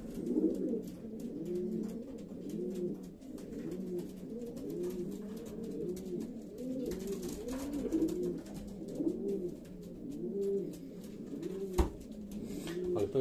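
Racing pigeons in a loft coo steadily, a dense overlapping chorus of soft throaty rolling calls repeating throughout, close and continuous, with no voices.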